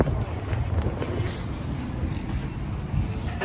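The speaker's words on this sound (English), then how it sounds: "Oh God, it's getting windy." Gusty wind at a motocross track buffets the microphone, a loud rumbling rush that surges and eases without a break for a few seconds.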